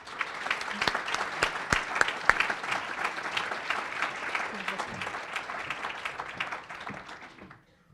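Applause from a symposium audience welcoming a keynote speaker to the podium: steady, dense clapping that holds for several seconds, then fades out at the end.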